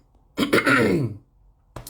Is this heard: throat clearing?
yes